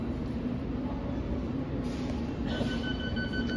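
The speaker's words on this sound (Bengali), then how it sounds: "district line train." A London Underground District line train running close by, with a steady rumble and rattle of the carriages and a thin wheel squeal rising near the end.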